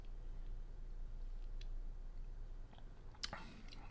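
A person chewing a mouthful of stir fry: soft, close, wet mouth sounds over a quiet background, with a sharper bite or crunch near the end and no talking.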